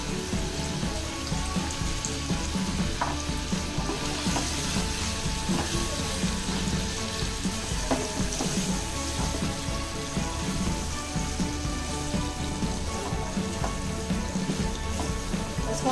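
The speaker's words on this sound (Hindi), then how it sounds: "अच्छे से फ्राई करना है ताकि हमारे मसाले सब अच्छे से पक जाए" Masala for Mughlai veg chaap fries in a pan on low flame, a dense, even crackling sizzle with scattered pops that runs unbroken throughout, with no voices.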